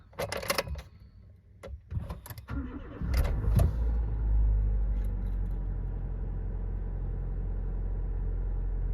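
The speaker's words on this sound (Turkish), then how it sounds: "kontağı açıp lamba sönmeden aracı çalıştıracağız" A 2011 Nissan Micra K12 car engine is started after a few faint clicks and handling noises, cranking briefly and then catching into a steady, rumbling idle that continues close by.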